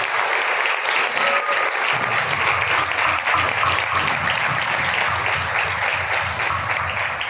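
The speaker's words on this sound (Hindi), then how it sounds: "ताली बजाएं" A conference audience in Ludhiana, Punjab breaks into sustained applause that swells after a quieter first couple of seconds, then holds as a dense, loud roar of many hands clapping.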